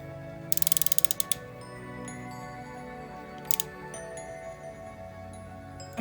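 A ratchet wrench tightens a valve lash adjuster nut on an engine: a quick, even run of close mechanical clicks, then a brief pause and a couple more clicks, over a steady background hum.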